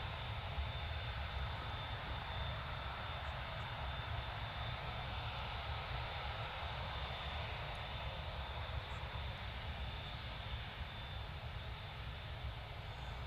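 An Etihad Airbus A380 departing Manchester Airport gives off a steady, broad jet engine roar at moderate distance, holding constant throughout with a low rumble and hiss and no talk.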